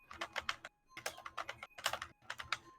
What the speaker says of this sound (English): I hear some typing.